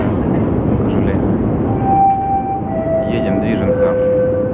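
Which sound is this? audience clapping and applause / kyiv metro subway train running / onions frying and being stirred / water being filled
kyiv metro subway train running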